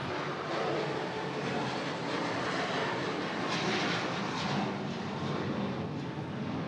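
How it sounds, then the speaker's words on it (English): Airplane passing overhead, a faint, steady distant engine rumble that swells slightly and fades, continuous for several seconds with no speech. "a plane goes overhead"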